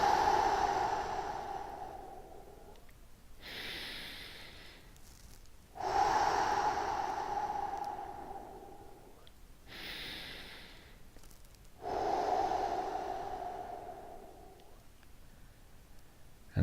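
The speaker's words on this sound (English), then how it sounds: "we're going to start usual by taking 3 big deep breaths." Three big, slow deep breaths taken during a relaxation exercise before a run, each a long audible inhale and exhale of several seconds with short pauses between, close and clear with no talking.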